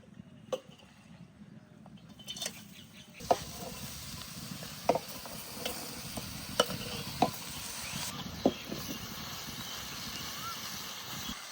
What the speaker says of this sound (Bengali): এবার পুঙ্কা শাকটা ভেজে নেব।